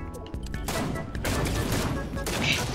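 Gunfire in a video game crackles in a dense, loud volley of overlapping shots that builds after a few sharp opening cracks.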